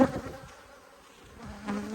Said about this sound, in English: You can probably tell there's an enormous amount of bees flying around